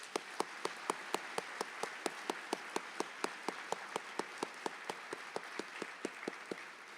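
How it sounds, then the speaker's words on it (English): An audience gives a round of applause at an evening event honoring UCLA Freedom Riders, heard as evenly spaced, crisp claps repeating steadily throughout at moderate, fairly distant volume. "Let's please give them a round of applause."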